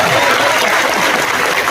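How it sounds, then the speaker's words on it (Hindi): Audience applause at a mushaira poetry gathering in Khargone, India, a loud, dense burst of many hands clapping close by, sustained without a break. "आप चाहे तो मेरे लिए एक बार और ताली बजा सकते हैं।"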